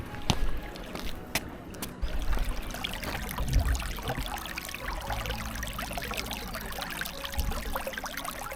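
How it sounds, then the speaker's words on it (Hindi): Cold river water flows and splashes near a Haidakhan Baba temple in the Nainital hills, a continuous broadband rush with scattered louder trickling and splashing bursts, fairly close and steady. "नदी का पानी तो बहुत ही ठंडा था, जो बहता हुआ बहुत ही बढ़िया लग रहा था।"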